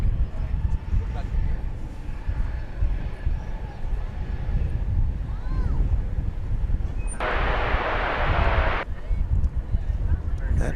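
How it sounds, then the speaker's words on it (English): Outdoor wind buffeting a microphone during plane-spotting at DFW Airport: a constant low, gusty rumble throughout, with a brief loud hissing swell near the end and voices talking faintly underneath. "That darn wind."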